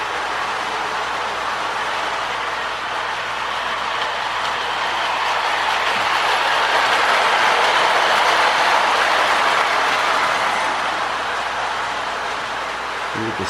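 A Marx Mercury toy electric train pulling a string of six-inch silver cars around its track, a steady close rumbling whir with faint clicking that swells slightly midway and runs on without talk.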